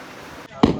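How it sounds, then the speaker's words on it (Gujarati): A Diwali firecracker bursts outside in a village, a single sharp loud bang near the end after a low background hum. "બહાર ફટાકડા પણ ફૂટવા માંડ્યા છે"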